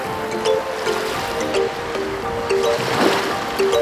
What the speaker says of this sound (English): The waves are pretty calm today.